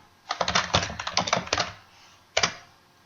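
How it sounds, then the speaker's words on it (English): Rapid typing on a computer keyboard while entering data into an Excel budget template, a dense close burst of key clicks for about two seconds, then a pause and one or two final keystrokes. "you can enter more information just by typing in here"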